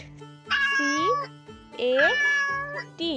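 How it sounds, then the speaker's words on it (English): A cat meows two drawn-out, rising-and-falling times, loud and close, among short tonal sounds in a children's animal-names sequence. "Cat."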